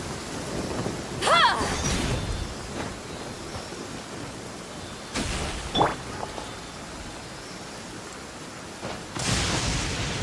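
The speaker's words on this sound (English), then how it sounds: "What's a little thunder when even lightning wouldn't dare strike our path?" A thunderstorm in the video game Genshin Impact, with steady rain hiss and several loud thunder rumbles and cracks at intervals, plus brief character vocal sounds.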